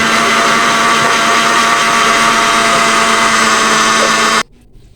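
A blender grinds boiled orange peels in a loud, steady, high-pitched whir that runs unbroken for about four seconds before cutting off abruptly, leaving near silence.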